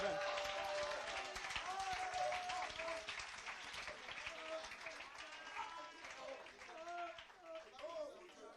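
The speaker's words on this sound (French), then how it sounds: "Est-ce que vous pouvez acclamer puissamment le Seigneur?" A church congregation applauds and cheers, with scattered clapping and excited voices that swell at first and then thin out, while someone speaks over the noise.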